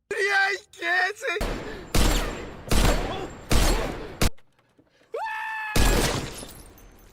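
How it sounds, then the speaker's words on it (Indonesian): Gunfire strikes a car's bulletproof glass in a film scene, with bursts of loud sharp cracks and impacts in rapid clusters, a shatter-like crash, and gasps and vocal cries between volleys. "Tae-sik memfokuskan tembakannya pada satu titik dan akhirnya si Mansik pun tewas mengenaskan"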